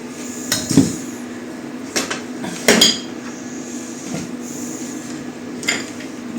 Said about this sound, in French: maintenant, on va mettre les pommes de terre et les potirons